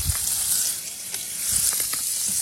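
A curry mixture sizzles steadily in a pan during a high-heat stir fry, a close, constant hiss broken by a few faint clinks and soft scraping.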